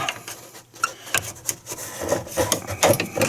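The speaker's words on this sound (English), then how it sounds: "we can take a screwdriver or a small pry bar and just sort of pry up the bracket" Screwdriver or small pry bar prying up a sway bar bushing bracket on a vehicle, heard as a series of close scraping and rubbing bursts with short knocks, with no talking.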